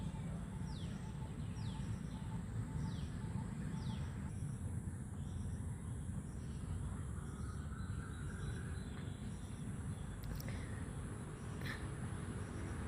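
A rare, all-green bird gives a few quick, high, repeated chirps, faint and distant over a steady hum of insects and outdoor background noise.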